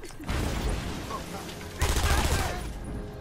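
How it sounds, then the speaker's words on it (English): Bursts of enemy gunfire in the Batman Arkham Asylum video game, a dense rattling fusillade that runs almost continuously and swells louder partway through, with faint talk underneath. "Oh no, they're shooting."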